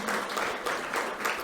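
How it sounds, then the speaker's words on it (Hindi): A crowd at a Brahma Kumaris New Year celebration in Panchkula claps warmly to welcome a respected guest, a brief burst of dense, steady applause. "हम खूब तालियां बजाकर अभिनंदन करते हैं"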